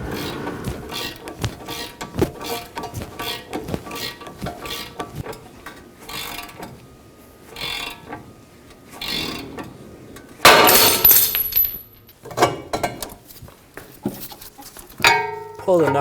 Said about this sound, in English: Using a ball joint separator tool, we're going to separate ball joint from the lower control arm